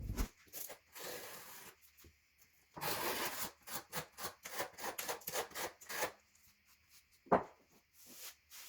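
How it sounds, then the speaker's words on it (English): A tool scrapes excess thinset mortar off an edge of DITRA tile underlayment over an OSB subfloor in a mudroom, in short, quiet, repeated rasping strokes with brief pauses and one sharp knock near the end. "So here I'm just cleaning up any extra thin set on this edge"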